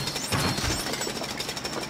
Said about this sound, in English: You got a pneumatic drill from that construction place, right?